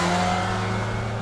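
A Kawasaki Ninja H2 SX SE 2018 supercharged motorcycle engine revving hard under acceleration, a loud, close, sustained drone with a steady harmonic whine that holds through the short burst.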